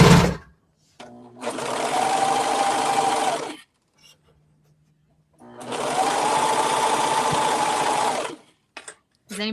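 A sewing machine stitches hoodie pieces in two steady, close bursts of a few seconds each, whirring evenly with quiet pauses and small clicks between runs.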